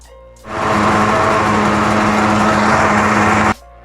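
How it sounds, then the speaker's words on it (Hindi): An electric grinder runs steadily for about three seconds, grinding Oreo biscuits with baking powder into a paste; a loud, even high-pitched whine starts and stops abruptly. "इसको अच्छी तरह ग्राइंड कर लेना है। बिल्कुल इसकी पेस्ट बना लेनी है।"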